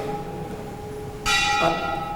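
A bell rings out loud and sudden during a spoken class, a bright sustained metallic tone that cuts across the quiet room and lingers briefly.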